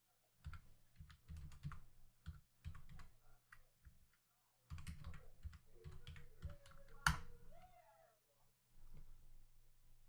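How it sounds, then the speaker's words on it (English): Keyboard keys tapped in quick bursts of clicks while entering a password during Cisco router configuration, close and moderately quiet, with a cat meowing loudly partway through and a low hum underneath. "Type password Cisco and hit enter."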